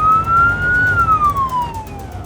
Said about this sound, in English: We're going code 1, lights and sirens to this patient